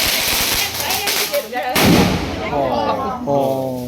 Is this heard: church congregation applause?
no